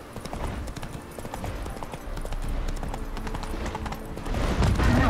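Horse hooves gallop in The Witcher 3, a fast close clip-clop rhythm that runs without pause and swells louder toward the end.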